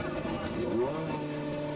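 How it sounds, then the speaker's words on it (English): DTM touring race cars from the 2002 Zolder round rolling into the pit lane, a steady mid-distance engine drone with a rising pitch sweep as one car passes, continuous throughout without voices. "More cars come sailing into the pits."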